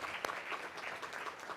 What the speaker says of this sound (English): give yourselves a round of applause for what we're doing today